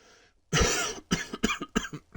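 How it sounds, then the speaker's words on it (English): A person coughs up close, one harsh, drawn-out hack followed by a rapid string of shorter coughs, loud with no talking, while on team radio comms during a sim racing event at Suzuka. "Developing a little bit of a cough the last couple of days"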